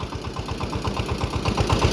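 A Kentavr 240V motor tractor with a 24 hp engine pulls away, its close, loud motor chugging in a fast, even pulse of firing beats throughout.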